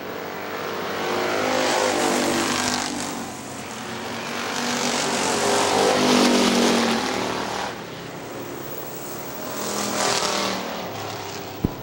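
Factory stock race cars roaring around the oval at Hartford Speedway Park, a loud, continuous engine drone that swells and fades in three waves as the pack passes close by, with no talk.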